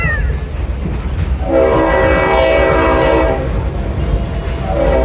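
A loud, sustained multi-tone train horn blares over steady rumbling rail noise on the Great Smoky Mountains Railroad near Bryson City, swelling and fading, with a second blast starting at the end.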